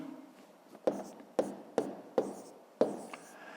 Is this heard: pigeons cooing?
no